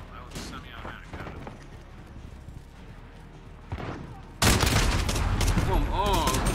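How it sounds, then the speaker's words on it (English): Semi-automatic gunfire in a video game, loud, rapid reports erupting suddenly in the last two seconds after quieter game sounds and a few isolated thumps. "that was a semi-automatic gun"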